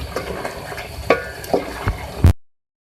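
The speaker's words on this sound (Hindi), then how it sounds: "आप देख सकते हैं यहाँ पे हमारा गोश्त जो है वो कुक हो रहा है।" Beef and medium tomatoes cooking together in a pot, giving a soft continuous sizzle with a few sharper clinks and stirring knocks before the sound cuts off abruptly.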